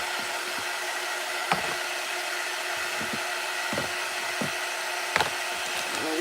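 A heat gun or hair dryer blows steadily to dry paint on a galvanized metal sign, a constant airy whir with a few small clicks and knocks from handling.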